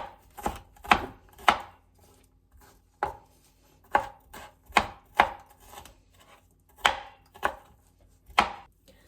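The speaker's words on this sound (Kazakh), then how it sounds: "сарымсақтарды майдалап тураймыз" Knife strikes a cutting board in uneven bursts of sharp chops while chopping garlic, about a dozen over several seconds, close and fairly loud, with no talking.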